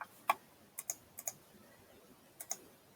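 Typing on a computer keyboard, heard as a sparse run of quiet, sharp key clicks arriving in small clusters with short pauses between them.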